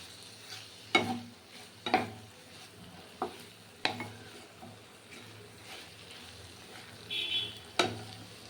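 Prawns and onions frying in a pan over low heat, a soft background sizzle broken by a series of distinct spatula knocks and scrapes at irregular intervals.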